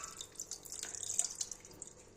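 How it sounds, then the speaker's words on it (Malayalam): Tamarind water poured into a pan of fish curry in a home kitchen, a short, faint trickling splash with a few drips, heard alone. "മീൻ മുളകിടുന്നതിലേക്ക് പുളിവെള്ളം ഒഴിക്കുക"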